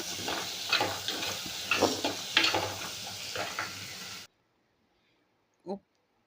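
Onions sizzling in hot tempering oil with garlic, mustard seeds, cumin, green chilies and curry leaves, a steady close frying hiss with spoon stirring scrapes that cuts off abruptly, followed by a brief voice.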